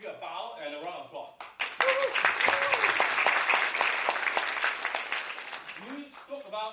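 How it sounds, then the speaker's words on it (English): An audience breaks into steady, dense applause and clapping that lasts several seconds, framed by a person speaking before it begins and as it fades. "I want to give you a bow and a round of applause."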